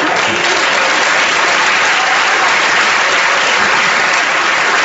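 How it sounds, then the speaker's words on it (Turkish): A studio audience at a televised comedy sketch show applauds loudly and continuously, a dense, even wash of clapping. "Seyirci alkışlamayın şunu."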